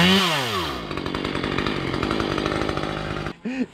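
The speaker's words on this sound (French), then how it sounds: "Et on va être coupé par la tronçonneuse." A chainsaw runs loud and close on a mountain bike trail-building site, starting with a rising rev and then cutting steadily before the engine drops off near the end.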